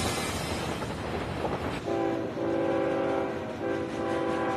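An Ontario Northland train rumbles steadily past on the track, loud and close, with a sustained horn blast sounding through the second half over the continuous rolling noise.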